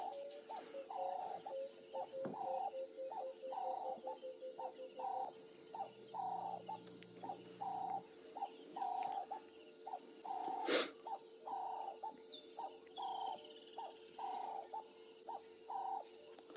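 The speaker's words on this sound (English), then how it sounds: "There's some grey go-away birds somewhere above us as well. You can just hear a bit of them." Grey go-away birds call repeatedly in the distance on a morning safari drive, a few louder chirps over a constant background hum, with no talking.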